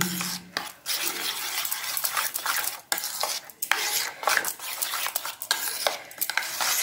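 Eggs and grated cauliflower whisked hard in a bowl, a fast run of close, loud clinking and scraping strokes with brief pauses, no talking.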